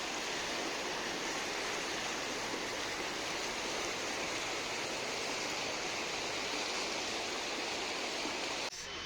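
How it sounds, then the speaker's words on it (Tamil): Water rushes over stones in a stream, a dense, loud, continuous roar with no pauses from start to finish. "அந்த கல்லுங்க இருக்கிற இடத்துல தண்ணி எப்படி போகுது பாருங்களேன்"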